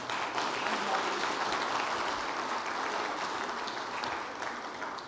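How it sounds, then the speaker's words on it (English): Seminar audience applauds the panelists in a steady, dense wash of clapping that holds for about five seconds at even loudness, with a faint murmur of voices underneath. "I think all of the panelists deserve another round of applause"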